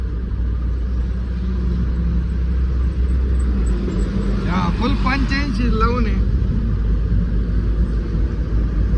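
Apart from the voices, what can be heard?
pickup truck driving on highway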